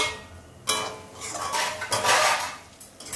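A pan lid is lifted off a pot of rava kichadi cooking on the stove, giving a metallic clatter and scrape of metal against metal, then a few further clinks of cookware over a steady low hiss.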